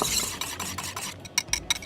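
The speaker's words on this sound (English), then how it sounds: "Now all we do is mix it until it's all smooth." Gochujang burger sauce with MSG, sesame oil and grated garlic being stirred in a bowl, a steady run of scraping, clicking stirs with sharper taps near the end, close and fairly loud, with no talking.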